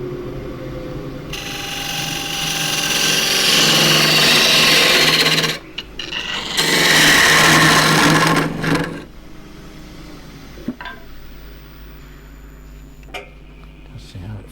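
A bowl gouge cuts dry jarrah burl spinning on a wood lathe, giving two sustained rasping, scraping passes up close, then the quieter hum of the lathe with a few knocks and handling sounds.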